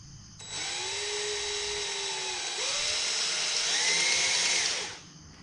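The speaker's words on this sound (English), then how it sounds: "I've got a small drill bit in there, and I've got my little attachment, allows me to drill into small spaces" A small bit in a power drill with a compact right-angle attachment bores into a motorcycle part on a Keeway Superlight 200, a steady high whine running about four seconds with a slight pitch shift as it bites, alone and near.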